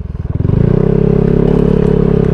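Motorcycle ridden on a Cebu road trip from Toledo City to Bantayan Island, with the engine rising into a loud, steady drone and rattling clatter close to the microphone and no talking.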